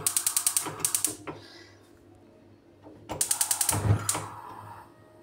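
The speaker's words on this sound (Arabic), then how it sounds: "غادي نشعل عليه البوطه" A gas burner under a pot is lit with rapid ratcheting igniter clicks in two bursts, the second followed by a soft whoosh as the flame catches, close and otherwise quiet.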